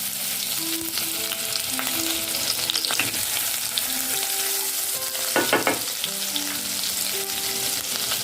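Cumin and ginger garlic paste fry in hot oil in a kadhai for a potato bhaji, giving a steady close sizzle with occasional scraping stirs of a spoon.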